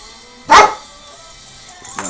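A single loud, sharp dog bark close by, with a fainter sound at the end of the short clip.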